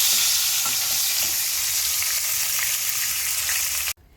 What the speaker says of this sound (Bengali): তো চলো মাছের মাথাটা ভাজা হোক